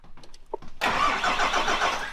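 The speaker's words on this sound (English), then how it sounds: "If we can get it to crank, we should be able to get it to start." A car engine, a vehicle being started for the first time, cranks and catches at once, roaring into a loud, steady run after a few faint taps and clicks that come first.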